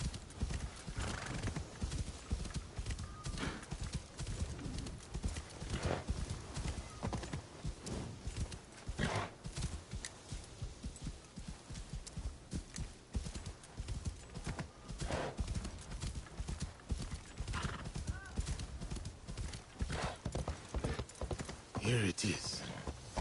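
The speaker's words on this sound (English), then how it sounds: "Oh, this damn running. I got a horse." A horse in the video game Assassin's Creed Shadows gallops near a cemetery, with a fast, continuous clip-clop of hooves and a neigh near the end, while a player talks over it.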